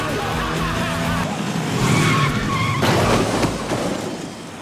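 A stolen scooter skids during a chase in a Korean police drama, with a steady, loud screech of tires and engine noise running throughout. Brief squeals rise over the roar.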